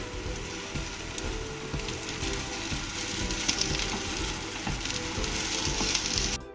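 Cut okra (vendakka) for an egg thoran hits a hot pan and sizzles loudly and continuously, a crackling, frying hiss with small pops throughout and no talking.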